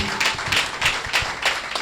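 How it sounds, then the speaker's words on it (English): Scattered clapping from a small audience, uneven bursts of hand claps repeating over a couple of seconds at moderate volume. "Please, can you put your hands together for the visionary?"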